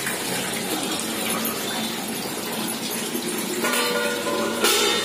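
Tap water running into a sink while dishes are washed at home, a steady close rushing stream that grows slightly louder and splashier near the end.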